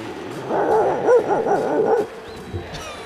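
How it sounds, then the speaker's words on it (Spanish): A dog gives a run of close, whining barks and yips that rise and fall for about two seconds, then fades to a faint whimper before a final short yelp. "mira un perro"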